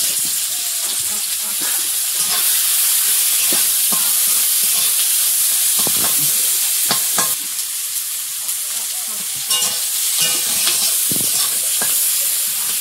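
Chopped onion sizzles and crackles in hot oil in a wok, a dense steady frying hiss broken by the scrape and clack of stirring, close and loud throughout.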